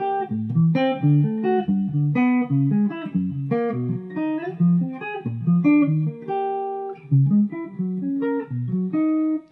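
A clean guitar plays a Bach-style triad exercise over the chord changes, with a continuous line of plucked notes moving quickly through arpeggiated triads. It is close and clear, with no talking.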